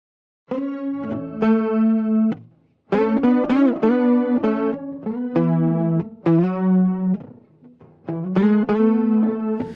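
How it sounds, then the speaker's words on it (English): Processed electric guitar plays a riff of sustained, chorus-tinged notes in bursts with short gaps, clear and close with no other sounds. "So there's this kind of like main guitar."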